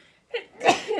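A single close, sharp human sneeze bursts out after a brief inhaled buildup, loud and abrupt, followed by a short voiced trailing sound.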